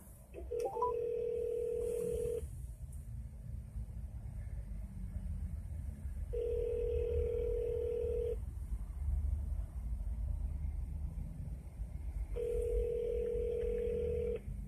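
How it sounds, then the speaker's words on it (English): Three steady electronic telephone dialing tones sound in sequence, each lasting about two seconds with gaps between, over a low background rumble like a truck cab interior. "We're gonna make a quick phone call here."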